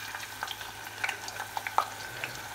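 Onions cooking gently in generously melted duck fat as they are stirred, a soft, steady sizzle with small crackles and light scraping taps close by, no voices.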